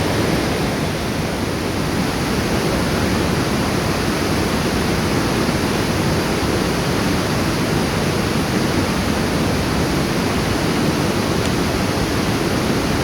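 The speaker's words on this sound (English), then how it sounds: "the roar of the final set of rapids before them" Loud, continuous roar of river rapids during a canoe race on the Manotick Round the Islands course, steady broadband rushing water filling the whole stretch with no talk.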